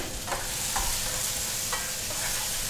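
About a kilo of meat and half as much onion brown in a pan, giving a steady close sizzle with a few soft stirring scrapes over the top.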